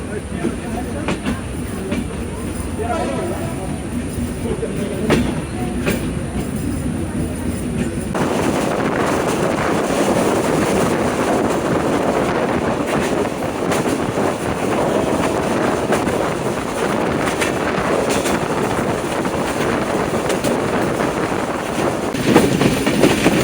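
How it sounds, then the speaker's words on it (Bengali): Sagardari Express train pulling out of Mobarakganj railway station, a steady loud rumble of wheels and carriages with rattling clatter and wind buffeting throughout, intensifying after the first few seconds as it gathers speed. "আমাদের ট্রেনটি ডিপার্চার নিচ্ছে মোবারকগঞ্জ রেলওয়ে স্টেশন থেকে"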